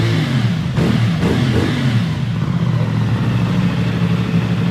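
A 2025 CF Moto 450 SR-S motorcycle engine revs up loudly and close by, a steady throaty roar with a few rising throttle blips over continuous idle clatter.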